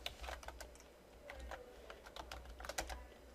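Typing on a computer keyboard at a command-line interface: irregular bursts of crisp key clicks, close and moderately loud, with no voice over them.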